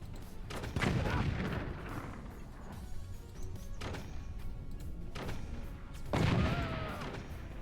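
A powerful armor-piercing sniper shot in the physics-based fort-building game Forts, heard as heavy booming reports, one near the start and another near the end, over a steady rumbling battle backdrop.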